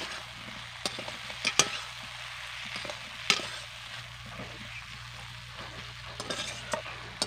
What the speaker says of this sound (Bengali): এবার মশলার সঙ্গে আলুকে ভালো করে মিশিয়ে নেব।